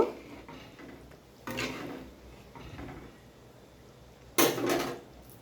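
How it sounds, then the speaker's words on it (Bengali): Cooked meat in thin gravy is scooped from a pot into a karai, giving two bursts of clattering metal and spoon scrapes against the cookware, close by and fairly loud with quiet pauses between. "মাংস আমি কড়াইতে নামিয়ে নিয়েছি"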